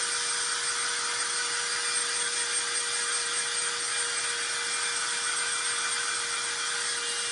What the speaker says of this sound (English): I'm going to use my hair dryer on the ink because I want to do it quickly